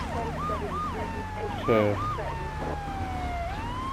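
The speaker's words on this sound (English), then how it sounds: "Stupid little police car" Police car siren in the video game GTA 3 wails in repeated rising and falling sweeps over engine noise, with a brief crash partway through and a single spoken word.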